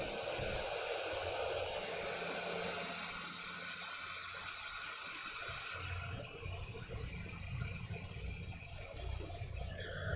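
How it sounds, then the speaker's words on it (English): A hot air station set to 200 degrees on high airflow blows on heat shrink tubing during a Corsair Void wireless headset battery replacement, a steady, quiet, hissing rush of air throughout. "now I'll just put the hot air on that. 200 degrees, high airflow"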